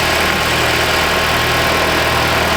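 A 2019 Mitsubishi Outlander Sport engine idles steadily with a constant, close mechanical hum and faint hiss, no talk over it.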